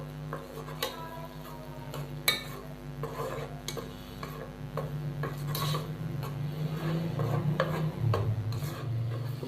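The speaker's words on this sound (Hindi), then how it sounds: "तो प्याज के पेस्ट को हम तकरीबन 4 से 5 मिनट के लिए फ्राई कर लेंगे।" Onion paste frying in oil for a dhaba-style chicken bharta, with a steady sizzle under scraping and stirring of a spoon against the pan and occasional sharp clinks of metal.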